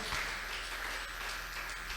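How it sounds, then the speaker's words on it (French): A church congregation applauds for the Lord at a prayer service, a dense, steady wash of clapping heard faintly, as if from a distance. "Acclamez pour le Seigneur."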